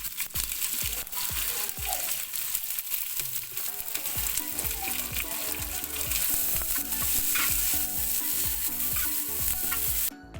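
Garlic, ginger, onion and curry leaves fry in oil with popped mustard seeds for a pork and tapioca biryani. The loud, dense sizzle runs steadily throughout, with stirring scrapes and clatter near the pan.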